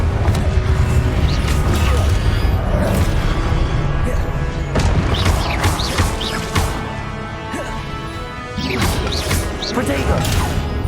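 Hogwarts Legacy boss fight: a Confringo explosion spell goes off amid dense, loud combat, with booming crashes and impacts layered over continuous battle noise and bursts of spell effects.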